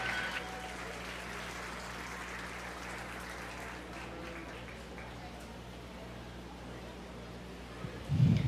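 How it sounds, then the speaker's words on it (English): Steady crowd applause carries on throughout at a 4-H beef cattle show, moderately distant, over a low background hum. "Let's give her a nice round of applause as well."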